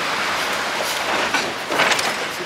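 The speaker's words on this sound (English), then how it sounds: "See the main trains coming?" A train rumbles past near Avonmouth Docks, a steady broadband roar with rising swells of wheel noise, fairly loud and close, with no talk over it.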